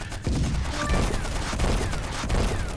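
Artillery and gunfire from the stickman war game Stickman Trenches, a dense continuous fusillade of shots and booms with a steady loud roar throughout, no voices.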